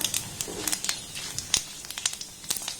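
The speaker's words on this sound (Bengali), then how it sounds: "এবার এখানে দিয়ে দেবো দুটো শুকনো লঙ্কা দিয়ে দেবো সামান্য পরিমাণে পাঁচ ফোড়ন" Dry red chillies and panch phoron crackle in a little hot oil, a faint, close sizzle broken by many sharp, irregular pops spread across a couple of seconds.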